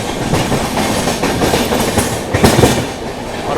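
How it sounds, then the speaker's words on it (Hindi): Shaheed Express train passing at a crossing on the outer approach to Barddhaman, heard from an onboard train: steady loud rumble of wheels and carriages with clickety-clack rhythm, swelling briefly near the middle, no talk. "ये रहा अपना शहीद एक्सप्रेस, इसके साथ हम लोग को क्रॉसिंग मिला है बर्धमान के आउटर में।"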